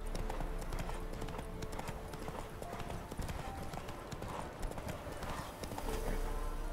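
Steady clip-clop of horse hooves trotting at an even pace in The Witcher 3: Wild Hunt video game, mid-distance, with faint background ambience and no talking.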